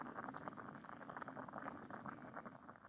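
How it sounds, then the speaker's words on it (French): Food simmers in a pot at a mountain bivouac, a soft, close, continuous bubbling that holds steady and quiet the whole time. "Ça mijote."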